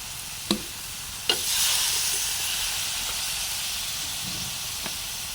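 Steady sizzling hiss from a hot wok stir-frying crab fried rice with kale, with a couple of sharp clanks of a utensil against the pan edge near the start.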